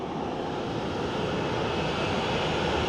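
Airbus A330 arriving from Faro, Portugal at Dublin Airport, a steady broad jet roar held at constant loudness throughout, sounding at some distance.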